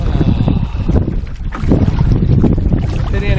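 Gusty wind buffets the microphone on an open lake during a solo canoe trip in Killarney Provincial Park, a steady loud rushing roar throughout with faint water and paddle sounds beneath.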